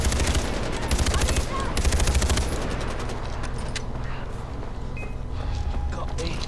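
Gunfire in the video game Far Cry 4: rapid bursts of automatic shots crackle in the first few seconds, then a rumbling mix of game ambience and scattered sounds follows.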